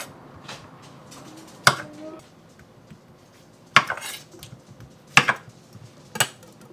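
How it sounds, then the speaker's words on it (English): Knife chopping the ends off zucchini on a cutting board for a keto lasagna: four or five sharp, separate knocks with short pauses between them, close and clear in a quiet room. "We're just going to cut off the ends."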